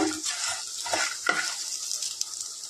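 Vegetables and lentil dumplings (bori) frying in a pan for a Bengali mixed vegetable dish, a steady close sizzle with a few scraping stirs of a spatula, no talking.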